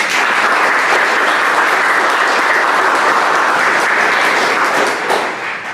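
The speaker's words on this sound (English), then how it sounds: "So let's give them another round of applause." Sustained, loud audience applause fills a ribbon cutting ceremony for the Penn State Scranton engineering building, a dense steady clatter of many hands that tapers slightly at the very end.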